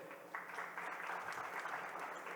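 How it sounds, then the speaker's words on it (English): Audience applause for a panel speaker at a startup ecosystem discussion in Gujarat, a steady wash of clapping from a moderately distant crowd, continuous and fairly even throughout. "Huge round of applause for Samir as well."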